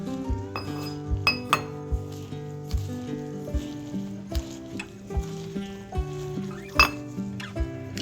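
A spoon mixing a thick batter for wild turmeric flower fritters in a bowl, with repeated clinks of metal on the rim at a steady stirring rhythm, close and without talk.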